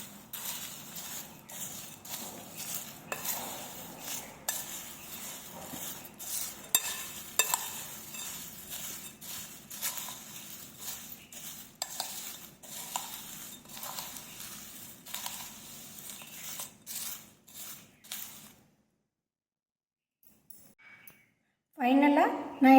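Aval (flattened rice) snack mixture with spices being stirred and tossed in a pan or bowl, a steady run of soft rustling scrapes and light clinks for most of the stretch, then a pause and a brief louder burst at the end.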